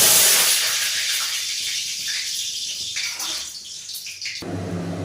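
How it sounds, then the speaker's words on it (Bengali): Whole cumin seeds tempering in hot oil for a Bengali vegetable dish with pumpkin and cauliflower, a steady bright sizzle and hiss, close and fairly loud, fading slightly before a sharper crackle near the end. "তেলটা গরম হয়ে গেছে, ফোড়ন দেব।"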